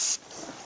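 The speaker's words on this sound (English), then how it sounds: "spray good with some brake cleaner" A short, loud hiss of brake cleaner sprayed from an aerosol can onto a Fiat 500 front brake caliper cuts off after a fraction of a second, leaving a quieter residual hiss.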